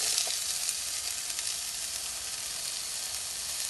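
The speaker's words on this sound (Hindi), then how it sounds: "कुकिंग ऑयल गरम हो चुका है, इसमें आप चॉप्ड ऑनियंस डाल दीजिए।" Chopped onions fry in hot cooking oil in a pan, giving a steady, close, even sizzle that carries on unbroken with no voices.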